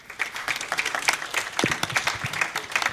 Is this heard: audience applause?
yes